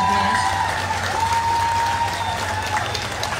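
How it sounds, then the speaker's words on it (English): An audience applauds steadily with a dense patter of clapping, some distant voices mixed in, at a consulate office opening ceremony. "Let's give her a round of applause."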